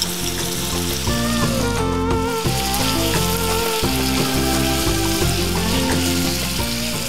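Chicken sizzles and fries steadily in a pan with soy sauce added, a constant loud crackle heard under continuous background music, with no talking.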